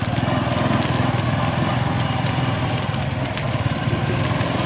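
A motorcycle engine strains in thick mud with a loud, steady, unbroken drone that stays close throughout.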